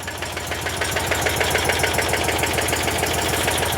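A car engine idles with a steady, slightly uneven rumble and knock right after an exhaust backfire, with the exhaust full of petrol fumes. The engine runs close and continuously, with no talk over it.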